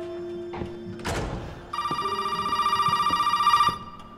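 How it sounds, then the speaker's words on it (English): A telephone rings in the main hall of a house in Resident Evil 7, with a steady electric trill after a dull thud. The ring is loud and close, sounding in rapid pulses for about two seconds. "Phone's going off already."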